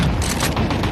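A grenade blast in a Counter-Strike match, heard as one dense, loud burst of rumbling low-end noise that holds for about a second with gunfire-like crackle layered in, and no voices.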